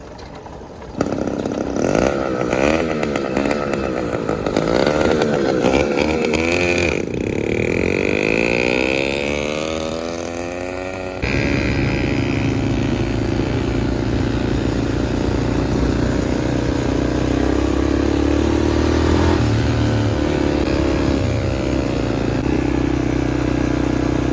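A motorized bicycle kit engine fitted with nitrous runs loudly and close, a buzzing two-stroke drone that revs up and down, then settles into a steady rough running tone.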